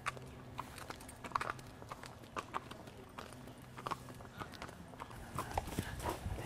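Horses walking a dusty trail on a guided ride, their hooves clip-clopping in an irregular, fairly quiet rhythm of sharp knocks with faint background noise.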